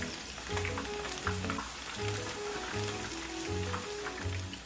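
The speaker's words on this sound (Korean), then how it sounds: "네, 두번 이제 튀기도록 하겠습니다." Steady crackling sizzle of battered pork for sweet and sour pork deep frying in hot oil, continuous throughout, with soft melodic music playing underneath.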